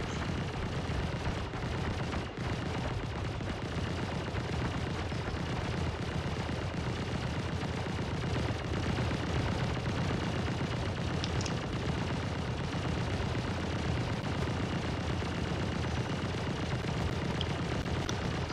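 A sentry gun firing in the game Star Citizen, dense continuous rapid gunfire with heavy booming blasts, loud and unbroken throughout, with no talk.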